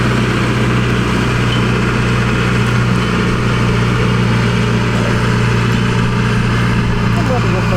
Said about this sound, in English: And there goes the state boy on the John Deere tractor.